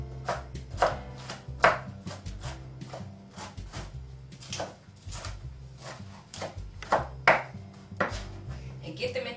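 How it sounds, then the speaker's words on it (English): A knife chops eggs on a cutting board in a home kitchen, sharp irregular thwacks repeating several times, close and crisp over a low background hum. "So I'm just going to chop these up."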